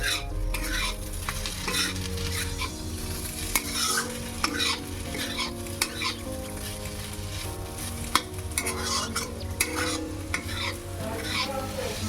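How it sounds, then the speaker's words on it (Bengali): A dish being stirred and fried in a pan, with a constant sizzle and regular, sharp clicks and scrapes of the spoon against the pan, heard under steady background music. "এবার আরো একবার ভালো করে নেড়ে নেব।"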